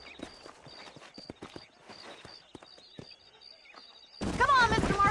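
Horses' hooves clip-clop in a steady, close rhythm of sharp knocks in the video game Red Dead Redemption, with faint background tones, until a loud voice cuts in near the end.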